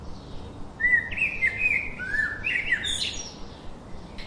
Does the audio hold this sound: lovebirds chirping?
yes